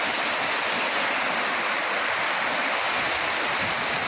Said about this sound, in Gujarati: અહીંયાથી પાણી પાછું અહીંયાથી નીકળી અને બીજી ટેન્ક તરફ જઈ રહ્યું છે